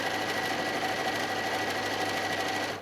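A sewing machine stitching across the bottom seam of a quilted fabric pouch, a continuous close whirring hum with a fast, even mechanical rattle, heard alone and steady before stopping.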